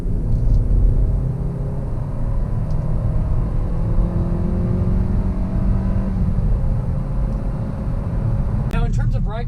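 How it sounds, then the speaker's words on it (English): A 2019 Kia Sportage SUV with the V6 engine cruising on the highway gives a steady low road rumble and engine drone that holds throughout, with a brief voice breaking in near the end. "in terms of ride quality on the highway, it's actually riding really smooth."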